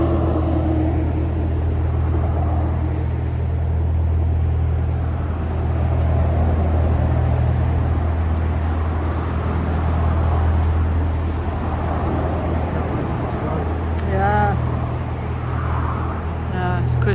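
Steady low road traffic roar beside a canal mooring, with vehicles droning past continuously, a dense rumble filling the background while people talk nearby.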